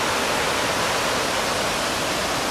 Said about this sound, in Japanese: でその下にも川があるんですよね。